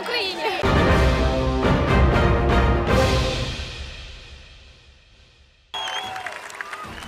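A crowd at the Battle of the Nations medieval combat tournament in Prague cheers for Czech fighters, a loud roar with clapping that swells and then fades, followed by a quieter stretch with noise and voices.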